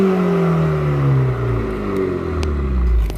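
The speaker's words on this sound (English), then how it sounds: "that's our presentation of a sport exhaust with the sport tuning" A MINI JCW with a sport exhaust and sport tuning revs hard nearby, its loud, raspy engine note climbing and falling through several sweeps before settling into a deep rumble.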